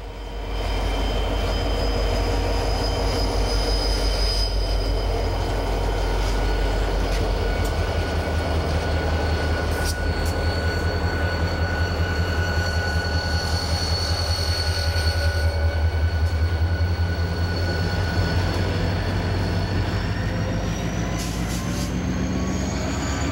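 A CSX freight train hauls a string of loaded phosphate hoppers past a highway overpass, with continuous loud rolling wheel rumble, steady engine drone and occasional faint wheel squeals throughout.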